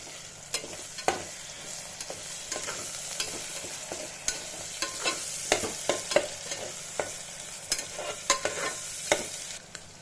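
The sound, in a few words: tomatoes frying in oil for chicken curry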